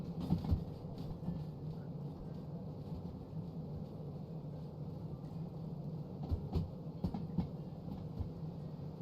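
A heavy train in the simulator game Derail Valley rolls slowly toward an uphill section, giving a steady low rumble with a few soft clunks and knocks near the end. No voices are heard.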